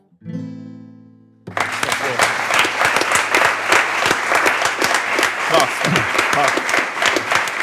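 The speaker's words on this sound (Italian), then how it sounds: "fate un altro grande applauso a tutti" Audience applause after a live song performance on an Italian talk show, a dense crowd of clapping that swells in abruptly after a brief musical tail and holds steady and loud to the end.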